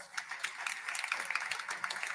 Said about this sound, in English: Now I want you to just give them a round of applause.